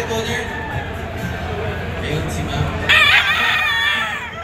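A white-legged Boston White Straight Comb gamefowl rooster at a gamefowl expo lets out a loud, close crow near the end, preceded by someone talking over a crowded hall full of other distant crowing birds.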